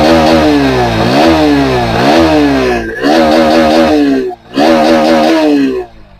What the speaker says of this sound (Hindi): तो NS में लगा है स्टॉक एग्जॉस्ट